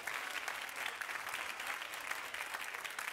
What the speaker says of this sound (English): if you love the Lord, clap your hands on this morning